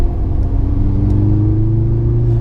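A 2022 Mercedes-AMG C43 engine sound piped into the cabin, a loud, steady low rumble with a slight rising hum, heard from inside the car with no talking.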